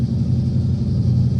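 A turbocharged Coyote engine in a Fox Body car runs at a steady, close, deep rumble on its first start, unbroken throughout.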